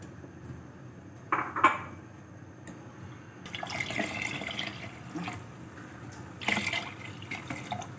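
Water is poured into a cooking pot of kadhi, giving a gushing, splashing stream in a couple of bursts, along with a metallic clatter of the vessel against the pot.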